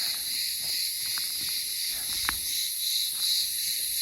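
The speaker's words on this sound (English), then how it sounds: "You hear these wonderful bugs." Insects chirp at an ancient city ruin: a steady high-pitched buzzing drone carries through the whole stretch, moderately loud, with only faint scattered background sounds and no talking.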